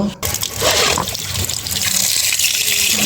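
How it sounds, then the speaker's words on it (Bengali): Pieces of a large cut pangasius fish being washed, with water from a tap gushing and splashing steadily in a sink, close and fairly loud throughout. "মাছটা ধুতে নেব"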